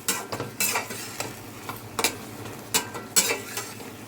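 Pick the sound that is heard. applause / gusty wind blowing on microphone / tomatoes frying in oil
tomatoes frying in oil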